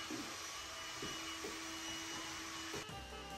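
Household vacuum cleaner running steadily with a continuous close whine during spring cleaning, its tone shifting briefly near the end as the nozzle moves.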